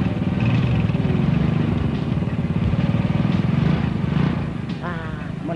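An ojek motorbike taxi engine runs in a loud, steady putter close by, easing off toward the end, with people talking over it.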